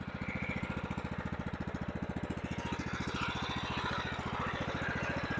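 A small Poulan Pro lawn mower engine idles steadily at low throttle, its rapid, even putter loud and close, with a light rattle riding on top.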